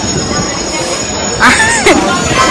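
A train at a busy railway station rumbles past, its wheels letting out two sharp, high screeches over the steady rolling noise, loud and near.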